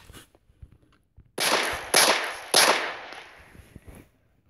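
Three sharp gunshot cracks in the Minecraft video game, fired in quick succession about half a second apart, loud and close with brief decaying tails and no talk over them.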